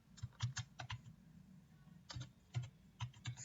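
Code being typed on a computer keyboard, quiet close key clicks in two short bursts separated by a brief pause.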